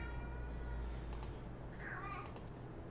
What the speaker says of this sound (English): you might be able to hear my kitty